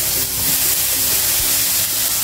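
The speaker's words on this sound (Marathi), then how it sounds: "इथे बिड्याचा तवा गरम केलाय, त्यावर मिठाचं पाणी शिंपडायचं आहे." Salt water is sprinkled onto a heated cast-iron tawa griddle, giving a loud, continuous, close hiss and sizzle for about two seconds.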